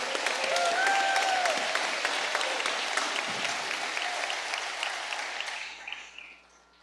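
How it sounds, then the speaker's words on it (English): A large crowd at an arts school graduation ceremony applauds loudly and continuously, with a few whoops rising above the clapping before it fades out near the end. "Give yourselves a round of applause."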